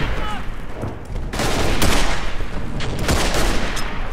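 Gunfire and mortar blasts in the World War I shooter Verdun: dense, crackling bursts of rifle and machine-gun fire swell into a loud, sustained barrage with heavy impacts, continuing almost without pause.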